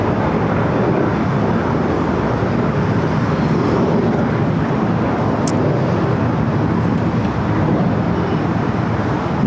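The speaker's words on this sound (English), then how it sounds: "we do have Aeromexico, the Dreamliner. We'll be heading back to Mexico City. We should be taking off here on the north side." A loud, steady roar from an Aeromexico Boeing 787 Dreamliner on its takeoff run from the north side of LAX, with broadband engine and rumble noise sustained throughout and no talk.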